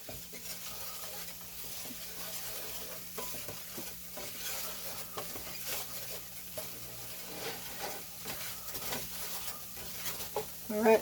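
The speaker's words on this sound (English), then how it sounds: "We'll get the flour whisked in before we throw our milk in there" Flour is whisked into a roux in a pan, a continuous soft scraping and stirring over a low sizzle, fairly quiet and close, with a slightly louder knock at the very end.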